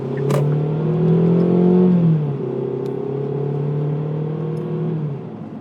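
A 2020 Kia Stinger GT-Line's 2.0-litre turbo four-cylinder engine revs up through the gears in manual mode with a steady droning tone, drops briefly as it shifts, then pulls again, loud and close.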